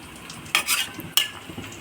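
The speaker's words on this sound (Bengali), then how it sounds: "তারপর হালকা করে নেড়ে চেড়ে দেবো।" Bengali shing fish curry with eggplant and potato gets stirred in a pan, with two sharp scraping strokes over a soft simmering sizzle, close and fairly quiet.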